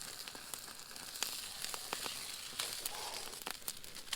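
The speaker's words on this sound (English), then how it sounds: "I can hear it sizzling, so it is done." Quiet, steady sizzling of brook trout frying at a campsite, with scattered sharp pops and crackles over a soft hissing bed.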